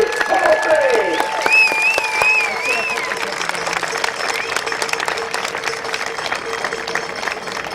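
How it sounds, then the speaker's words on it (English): A crowd applauds and cheers for the 2018 Midvale Speedway Hall of Fame class, loud clapping that slowly thins while a tonal whistle or feedback sounds early and voices carry over it. "how about one more huge round of applause for our 2018 third ever class in the Midvale Speedway Hall of Fame"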